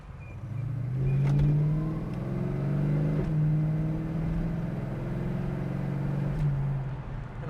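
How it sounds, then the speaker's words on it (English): A 1970 Mercury Cougar Eliminator-style V8 revs hard as it accelerates up through the gears, engine pitch climbing and dropping with each shift, loud and close with a steady rumble throughout. "the car shifts real nicely through the gears"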